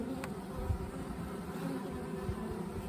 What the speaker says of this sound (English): there's so many bees in here right now trying to build wax